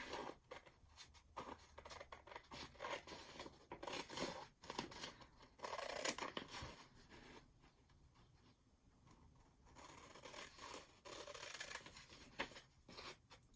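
Scissors snip and rustle repeatedly through a glossy paper magazine as pictures are cut out, in uneven bursts of crisp cuts and paper handling, close and fairly quiet, with no talking.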